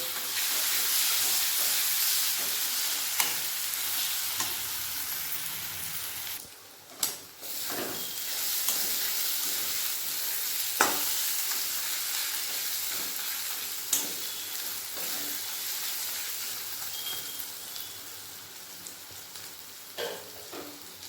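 Garlic paste frying with onions in oil for a special mutton dish, a steady close sizzle and hiss with a few sharp stirring knocks scattered through it.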